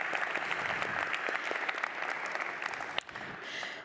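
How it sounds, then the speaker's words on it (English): Audience applause fills an awards ceremony hall, a steady dense patter of many hands clapping throughout, with one sharp louder clap near the end as it begins to thin. "Give yourselves a round of applause."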